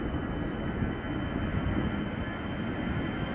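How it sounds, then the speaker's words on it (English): A KLM Boeing 777-300ER airliner taxiing on a connecting road at Schiphol Airport gives off a steady, loud broadband jet roar that holds even throughout, with no voices. "Now also coming this way is KLM flight 735, a 777-300 ER going to Willemstad"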